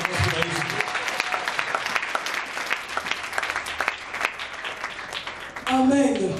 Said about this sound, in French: Vous pouvez acclamer très fort pour Jésus.